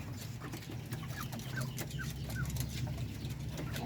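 A hen clucks in a large coop after laying an egg, giving short repeated calls over a steady low background hum, moderately close and without talk.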